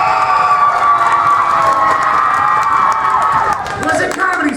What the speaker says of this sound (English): applaud a lot louder for the team you want to get the next 5 points